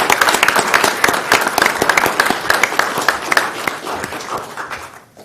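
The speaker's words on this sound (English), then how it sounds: "I think a round of applause is probably appropriate." An audience at a city council meeting claps loudly and close, the dense applause holding steady before thinning and fading over the last second or two.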